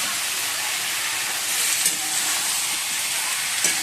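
Potatoes and papaya tip into spices frying in a pan, setting off a loud, steady hiss and sizzle that holds evenly throughout, with a couple of faint clinks and no voices.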